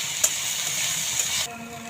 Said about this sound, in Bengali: পেঁয়াজগুলো গরম তেলে দিয়ে ভাজা হচ্ছে